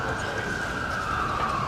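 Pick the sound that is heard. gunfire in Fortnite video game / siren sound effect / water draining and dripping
siren sound effect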